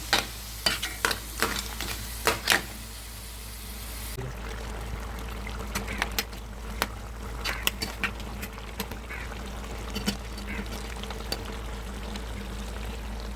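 Crab roast cooking in a pan over high heat in a Kerala home kitchen, a continuous bubbling sizzle punctuated by sharp clinks and scrapes of stirring throughout, fairly close with no talk.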